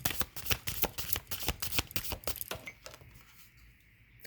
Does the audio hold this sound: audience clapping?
no